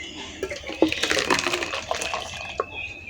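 Freshly blended mango juice poured into a container, giving a wet, splashy stream with small gurgles and drips that swell and fade over a few seconds at close range.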